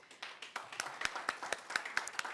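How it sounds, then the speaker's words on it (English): A small audience at a food banking conference session claps in a sparse, rhythmic run of distinct hand claps, moderately close and fairly quiet, with no talking over it. "Can we give a round of applause to Elijah and Jomar and thank them for their participation?"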